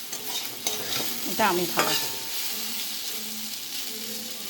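Pumpkin fries in oil tempered with mustard seed and a dried chili, sizzling softly under a spatula's scraping stirs, while a voice speaks briefly over the cooking.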